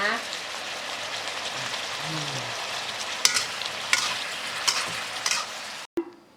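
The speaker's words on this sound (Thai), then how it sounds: "คนให้เข้ากันก่อน" Stir-fried long beans are stirred in a hot pan in a home kitchen, a dense continuous sizzle with scraping utensil strokes and a few louder knocks, a brief voice heard, ending abruptly.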